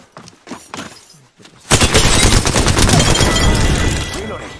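Loud, sustained automatic gunfire in the video game Apex Legends bursts in after a few scattered sharp sounds and some brief speech, then continues as a dense, near barrage that slowly fades.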